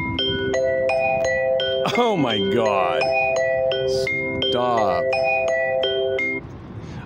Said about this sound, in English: That was my alarm going off on this phone.